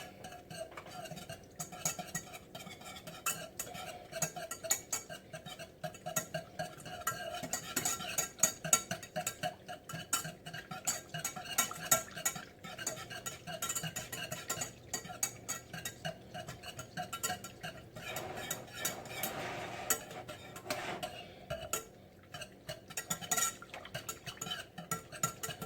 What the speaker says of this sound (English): I'm going to take a whisk right here. And what we're going to do is whisk all this together.